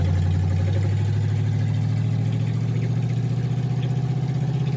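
A 1931 Ford Coupe engine runs while driving, with its exhaust hanging loose underneath, giving a loud, steady low drone with a throbbing pulse heard close up from inside the car.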